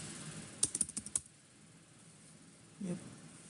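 A short burst of about half a dozen quick keystrokes on a computer keyboard, close and crisp, then near silence and a faint low thump.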